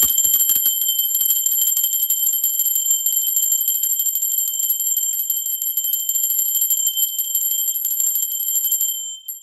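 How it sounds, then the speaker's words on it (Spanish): A bell rings with a bright, sustained high tone, struck once and left to decay slowly over about nine seconds, clear and alone with no talk. "va campana"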